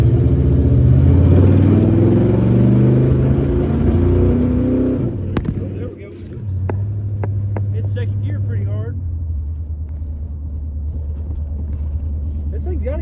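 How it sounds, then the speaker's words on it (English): Rebuilt Chevrolet K5 Blazer engine pulling under throttle on its first drive after the rebuild, a loud rumbling drone for about five seconds that drops to a steadier, lower roar with sharp clicks and knocks inside the cab. "good sounding engine though."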